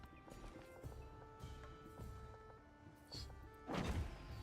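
Faint, steady hoof clip-clops from horses in a video game, rhythmic and distant under low game ambience, ending with a louder muffled thump.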